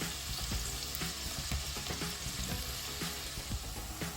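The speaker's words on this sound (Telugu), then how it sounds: "ఉల్లిపాయలు వేడుతున్నాయండి" Chopped onions fry in hot oil for mutton keema, giving a steady, dense sizzle with scattered crackles and pops from start to finish.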